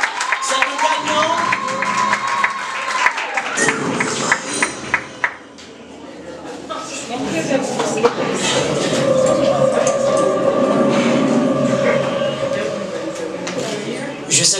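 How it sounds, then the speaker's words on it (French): A contest-final audience in a hall claps for the winner, a broad steady wash of applause swelling in after a pause and continuing beneath music and an announcer's voice. "Madame, monsieur, on applaudit Sylvestre Junior."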